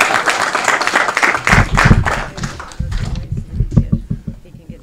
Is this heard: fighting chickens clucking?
no